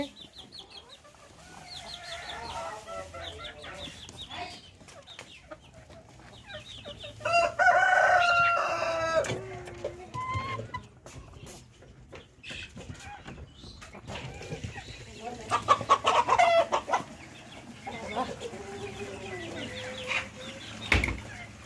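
Hens cluck and chatter nearby while a rooster crows twice, loud and drawn out, with softer farmyard clucking continuing between crows.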